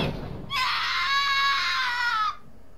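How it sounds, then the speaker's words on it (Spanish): A single sustained, high-pitched scream from the video game Danganronpa 2 rings out loud and alone for nearly two seconds before cutting off abruptly. "¿Eso ha sido un grito?"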